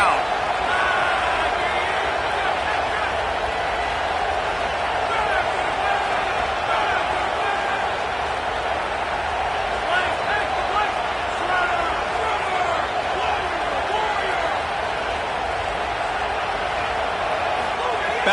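A roaring stadium crowd in an NCAA football video game fills the space with a dense, steady wash of cheering noise during a third-down play, while a commentator talks over it.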